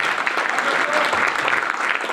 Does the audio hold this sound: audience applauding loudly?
yes